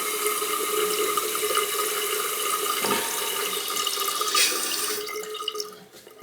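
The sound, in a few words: water running in toilet tank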